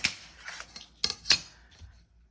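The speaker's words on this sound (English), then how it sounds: "I should have cut this one right here with my scissors before I put it on." Scissors snip through paper in a few crisp, close cuts, with light rustling between the snips, all fairly quiet and without talk.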